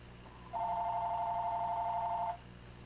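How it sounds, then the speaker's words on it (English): An incoming call rings as a single steady electronic tone lasting nearly two seconds, clear against a quiet room hum, with no voices. "Of course, I get a phone call now."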